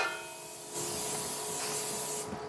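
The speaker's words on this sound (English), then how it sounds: "I'm gonna spray some pan to it." A short hissing spray of cooking spray from an aerosol can into a bowl, starting abruptly and continuing steadily for about a second and a half before cutting off.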